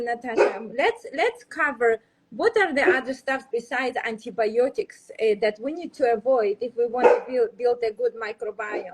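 A dog barks now and then in a home setting, short yaps mixed in under a steady conversation between people talking throughout.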